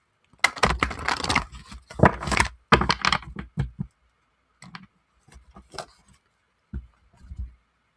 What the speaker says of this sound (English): So I'm going to shuffle each one of them one more time